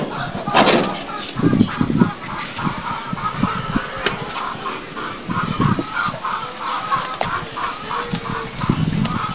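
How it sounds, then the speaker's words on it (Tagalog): Chickens clucking around a rural family home, with repeated short clucks and calls over a steady outdoor background; faint voices occur under the birds. "Pero kasi napasok yung manok."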